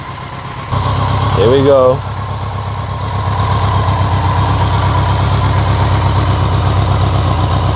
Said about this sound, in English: Idle's running great